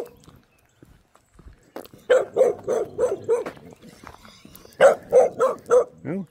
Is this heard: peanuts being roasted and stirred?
no